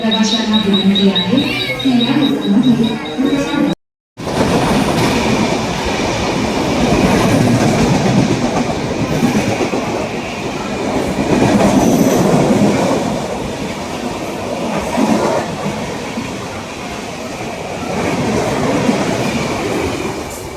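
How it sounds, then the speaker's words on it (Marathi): A suburban passenger train to Ambernath rumbles past a station platform at close range, with steady clattering wheels and a broad roar that holds for the whole stretch after a brief opening of voices. "ही अंबरनाथ ट्रेन आहे."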